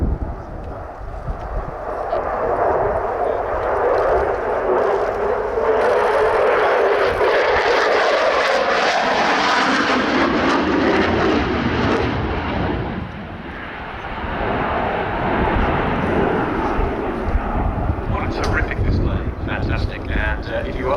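Lockheed Martin F-16 jet in a flying display at RIAT, a loud roaring engine rumble with wind buffeting that swells, dips briefly and returns; a voice talks over it.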